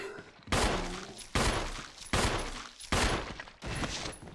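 Gunshots fired at a monster in Resident Evil: five heavy, booming blasts roughly a second apart, each ringing out with a long echoing tail, loud and close with no talk over them.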